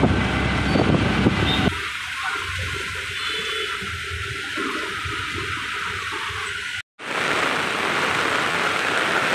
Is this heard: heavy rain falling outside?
yes